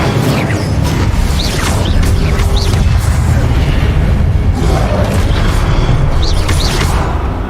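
Fire spell cast repeatedly in Hogwarts Legacy, booming magical bursts over a dense, loud game soundscape with rumbling low end and swooshing effects, continuous throughout.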